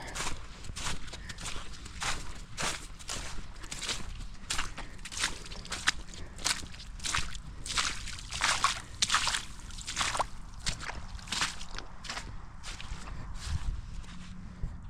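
Footsteps slosh through standing water on a hay field, a steady series of wet splashing steps close by, each crunching and splattering in an even walking rhythm with faint background hum.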